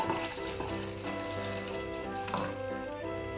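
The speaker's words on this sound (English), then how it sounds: "all we need to do after that is pour in the ginger beer" Ginger beer poured into a cocktail glass, a steady fizzing, splashing liquid stream lasting a few seconds, close and moderately loud with no talking.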